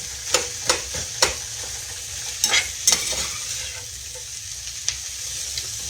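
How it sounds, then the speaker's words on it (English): Onions for hamburger steak with onion gravy sauté gently in a pan under a steady sizzle, with a burst of quick utensil clacks and scrapes as they are stirred, then quieter occasional taps. "are going to gently saute these. We're not in any hurry. Let them cook down"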